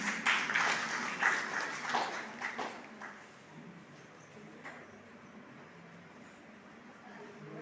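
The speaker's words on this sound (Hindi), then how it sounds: "स्वागत करिए उनका तालियों से" An audience in a lecture hall at a birthday commemoration for Babasaheb claps to welcome a speaker. The applause is dense for about three seconds, then thins out and fades into quieter room noise.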